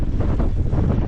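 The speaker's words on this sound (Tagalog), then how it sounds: "ang lakas ng hangin po eh." Wind rushes hard over a fishing boat at sea, a dense, unbroken low roar battering the microphone for about a second with no talking.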